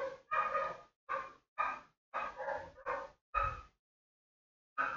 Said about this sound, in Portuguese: Cantoria dos cachorros, para interromper a nossa bela live hoje.